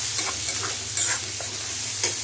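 Spices with turmeric and coriander powder frying in a pan for a fish curry, a soft steady sizzle with a few stirring scrapes, close and quiet.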